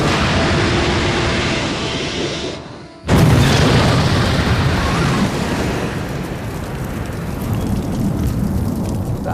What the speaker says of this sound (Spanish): Tras una enorme explosión, todo el barco y el agua ardieron.